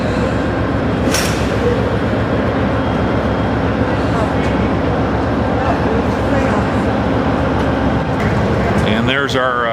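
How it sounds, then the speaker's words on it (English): The California Zephyr passenger train rumbles steadily nearby with a continuous rolling clatter of wheels on track, and a brief high squeal cuts through. "there's our train here"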